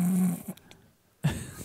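A man imitating snoring with his voice, faking a loud, rasping inhaled snore, then a quiet pause, then another rough snore starting up, close and unaccompanied by talk.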